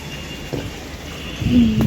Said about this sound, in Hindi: आज तो बहुत बारिश हो रहा है भाई